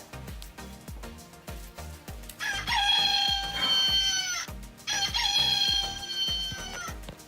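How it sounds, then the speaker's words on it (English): Chickens cluck and squawk in two loud bursts close by, each lasting about two seconds, over a steady rhythmic thumping background. "it's a new chicken"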